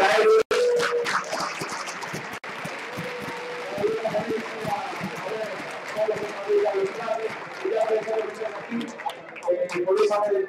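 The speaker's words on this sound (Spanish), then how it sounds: "Y un fuerte aplauso para él" An audience claps at a robot combat event at OSHWDem 2016. The applause is a broad, sustained patter that runs the whole time beneath a voice speaking over a loudspeaker.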